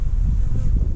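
Scout or robber honeybees buzz around a pink hive box in an apiary, a dense, continuous low drone close by with no talking.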